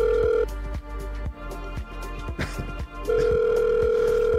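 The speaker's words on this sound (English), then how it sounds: "The phone's ringing, are you going to answer it?" A telephone rings with a steady electronic tone that stops, leaving a stretch of quieter background, then starts again loud and close.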